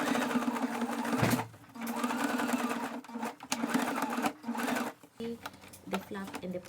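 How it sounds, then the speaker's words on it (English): A sewing machine top-stitches a pocket flap on denim cargo pants, running in steady bursts with brief pauses between passes, close and fairly loud, with a voice talking over parts of it. "You're going to stitch a 1-inch stitch on top there, on your right and your left side of the pocket."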